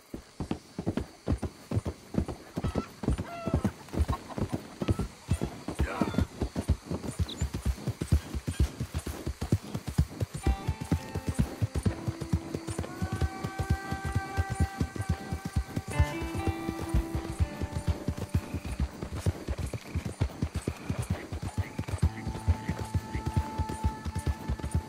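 Horse hooves clip-clop steadily at a walking pace on a dirt trail in the Red Dead Redemption 2 video game, close and rhythmic, with occasional snorts and brief musical tones in the background.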